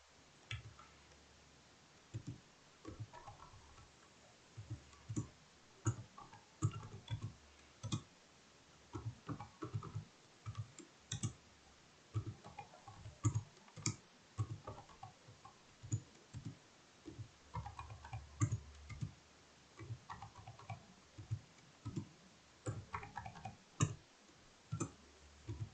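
A calculator's keys are pressed one after another to enter measurement values into a statistics list, giving quiet, close plastic clicks in an irregular steady rhythm with no talking.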